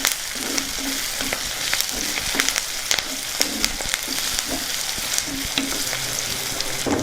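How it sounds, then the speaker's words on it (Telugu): Dried chillies, garlic and curry leaves stir-fried in hot oil in a pan: a dense, close sizzle broken by regular spatula scrapes and taps, with no voices. "మొత్తాన్ని ఒకసారి బాగా కలుపుకుందాం"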